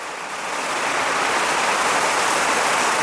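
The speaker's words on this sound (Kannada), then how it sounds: "ಮಳೆ ಸುರಿತಾ ಇದೆ." Heavy rain pours down and leaks into a house in Ankola, a dense, steady roar of falling water that holds loud and unbroken throughout, with no voices.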